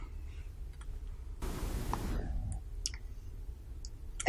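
Mouse clicks on a computer running an Excel spreadsheet sound as a few small, sharp, quiet ticks, near and isolated, after a brief soft rustle.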